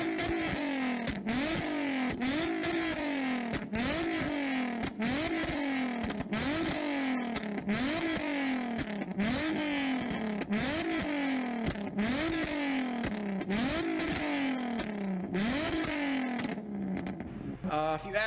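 A Nissan Z with a straight-pipe exhaust revs hard over and over, loud and close, each rev climbing and falling in a steady repeating rhythm for the whole stretch.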